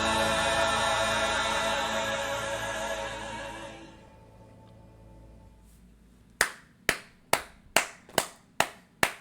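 A sustained musical chord fades out, then after a quiet gap one person claps hands eight times, sharp, close and evenly spaced.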